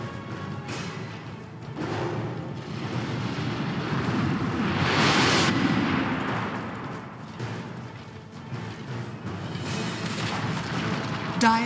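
A tower collapsing in a Dota 2 match, heard as a sustained rumbling boom that swells and fades amid battle explosions, loud and dense with other game effects.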